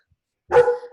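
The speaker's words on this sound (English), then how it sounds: "I think my dog is barking at your dog, Margie." A pet dog gives a single sharp bark that trails into a short whining tail, loud and close after a silent start.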